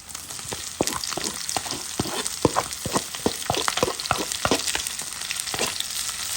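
Onions frying in a pot give a close, bright crackling sizzle throughout, punctuated by sharp clattering strikes from stirring, irregular and busy, with no speech.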